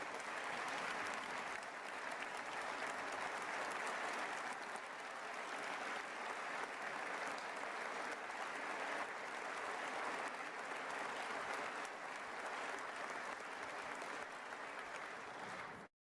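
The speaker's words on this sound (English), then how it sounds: "please give Kathy, all these great people, a tremendous round of applause." Sustained, dense audience applause during a state of the State address, a thick even roar of many clapping hands continuing for over fifteen seconds before cutting off abruptly.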